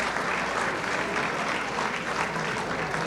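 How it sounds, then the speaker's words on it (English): Steady applause from an event audience greeting a guest who stands to be recognized, dense and continuous clapping throughout, with no voices rising above it. "A round of applause for Bumbulina."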